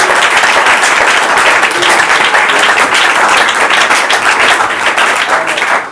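A church congregation applauds loudly and continuously during a sermon, a thick, sustained wash of many hands clapping at close range.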